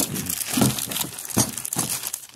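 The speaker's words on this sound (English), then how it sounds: "They're unwrapping everything from the plastic." Crinkling plastic packaging being pulled off new wheelbarrow parts during a kids' wheelbarrow assembly, with bursts of crumpling and tearing close by, no talking.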